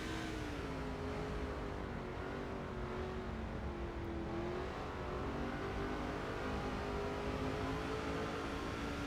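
Race car engine in a racing video game on the final lap at Richmond, a continuous loud drone whose pitch rises and dips slightly as the car works through a corner.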